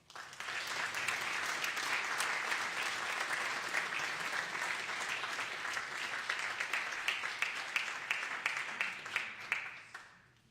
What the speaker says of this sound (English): Please, let's give Supervisor Ken Yeager a round of applause.